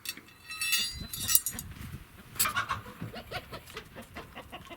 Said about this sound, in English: Chicken, what do you want?